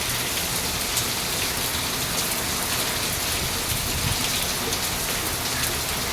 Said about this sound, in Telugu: వర్షం చూడండి ఎంత బాగా పడుతుంది